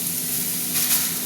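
Ash gourd pieces fry in hot oil with mustard seeds for a chechki, a brief, steady, close hissing sizzle with no voices.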